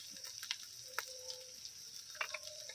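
Ginger, garlic and spices such as chilli and turmeric powder fry in a pan, a soft steady sizzle with occasional light clicks and spoon taps, faint and close.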